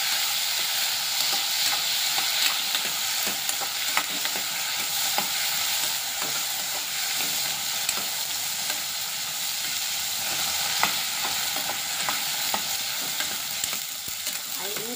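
Curry leaves, mint and coriander frying in a pan for a pickle give a dense, continuous sizzle at close range, dotted with faint clicks from the stirring spoon, and nobody speaks.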